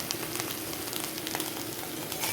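Steady, crackling sizzle of eggplant frying in hot oil, dense and continuous with small pops scattered throughout, close by and fairly quiet.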